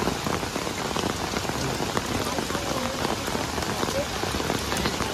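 Heavy monsoon rain pours down in Mumbai, a dense, steady patter drumming on surfaces without a break. It stays loud and close throughout, with no voices.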